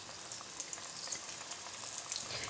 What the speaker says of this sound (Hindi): चलिए अब इसे फ्राई करना स्टार्ट करते हैं।